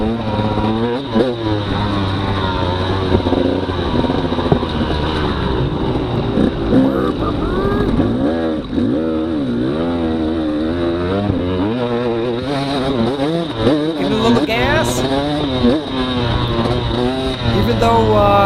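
At a K Class hare scramble race, a KTM dirt bike engine revs and bogs, rising and falling under load, close and loud, with other motorcycles in the background.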